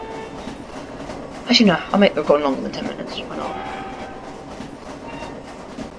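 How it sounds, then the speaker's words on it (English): A train passes in the Roblox game Jailbreak, a steady rolling rumble with rail clatter running throughout while a person talks over it in the middle. "I'm gonna wait for the train until it kicks me off"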